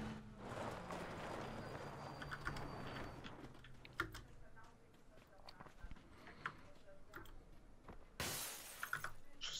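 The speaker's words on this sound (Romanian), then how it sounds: "Și sparge-l geamurile." Window glass smashed in a video game house, a sharp bright shatter burst near the end, with players talking over game noise and clicking keys throughout.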